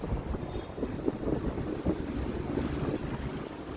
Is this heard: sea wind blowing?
yes